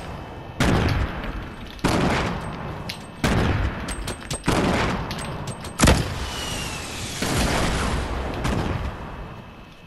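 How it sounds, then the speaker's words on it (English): Several heavy blasts punch through a video-game firefight, each a loud sudden burst with a decaying tail, spaced about a second or two apart, with gunfire and engine-like noise between them. "Here come the grenades."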